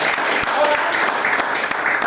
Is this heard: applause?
yes